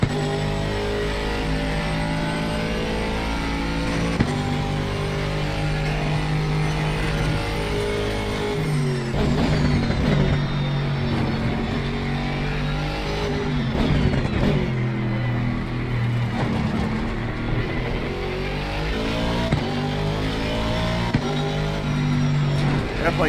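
An Aston Martin Vantage GT3 race car in Assetto Corsa Competizione at Misano, its engine revving and shifting through gears in a steady loud drone with rising and falling pitch sweeps as it pushes through corners.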